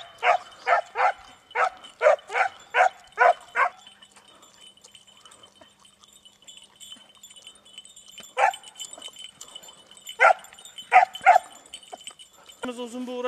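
A hunting dog chases a rabbit, giving a quick run of about eight sharp, close barks, then a quieter stretch of faint sounds before several more scattered barks near the end.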